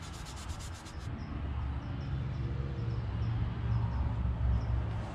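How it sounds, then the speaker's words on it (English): A Scotch-Brite pad scrubs the metal seal surface on a Big Tex trailer during maintenance, making a steady, close abrasive rubbing that continues without pause or voices. "We're going to just use a little emery cloth here, or not emery cloth, Scotch-Brite."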